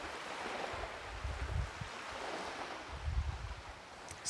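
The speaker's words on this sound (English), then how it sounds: "We listen, O God, to the waves lapping." Waves lap and wash against a shore in a soft, continuous outdoor rush, with gentle low surges about every second and a half and some wind noise.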